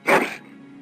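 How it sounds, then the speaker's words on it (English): A dog in the video game Dragon Age: Origins gives a single short, sharp bark or yelp that trails off into a faint low whimper, close and alone without talk. "That is a wonderful dog."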